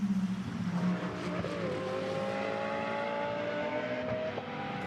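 GT2 race cars at the Misano circuit during a 2021 Fanatec GT2 European Series round, engines droning steadily with a sustained rising and falling whine as the leaders climb toward turn 14, loud and continuous throughout.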